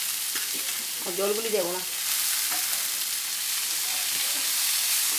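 Radish greens frying in a pan, a steady broadband sizzle and hiss running throughout at moderate level, with a brief voice speaking near the start.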